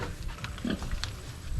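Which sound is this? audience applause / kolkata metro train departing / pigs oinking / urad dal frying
pigs oinking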